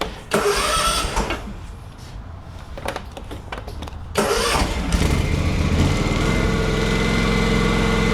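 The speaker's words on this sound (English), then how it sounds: "So we're gonna start it up one more time. I'm gonna run it a little bit longer." A John Deere x380 riding lawn mower cranks and fires up, then runs at a steady, loud idle after some brief starter and engine sputtering, heard close with no talking.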